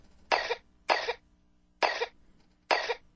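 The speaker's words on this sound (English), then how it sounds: "Coughing is permissible for the moment." Four harsh coughs, evenly spaced with short pauses between them, close by in an otherwise quiet room.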